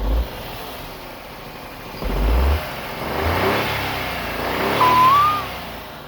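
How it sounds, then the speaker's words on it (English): A Vauxhall Corsa C car engine revs in a few swells over a steady idle, rising and falling at close range with no talking. "Now, I'm gonna give it a few revs."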